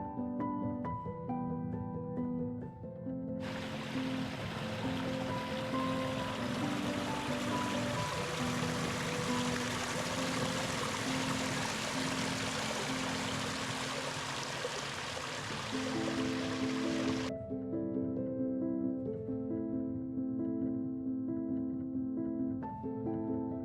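Water rushes and gurgles continuously, a steady creek flow on a hiking trail at Clark Creek, with a louder, brighter surge through the middle.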